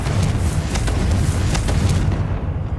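A Confringo spell blast in the Hogwarts Legacy video game: a sustained, loud rumbling explosion with crackling bursts, steady throughout before easing slightly at the end, no voices heard.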